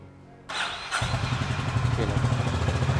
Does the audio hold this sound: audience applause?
no